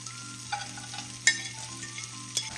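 Chopped cooked bacon stirred into shrimp frying in a pan over medium-low heat, a steady soft sizzle with a few brief scraping clinks from the utensil, close and alone without voices.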